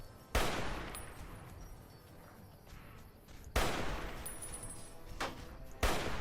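Three sharp, loud sniper rifle shots crack out at uneven intervals in Fallout New Vegas, each followed by a lingering echoing tail.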